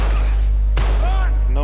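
Gunfire in the Uncharted 3: Drake's Deception video game, a single sharp crack under a heavy, loud rumbling background, with voices rising around it in a ringing, tonal tail.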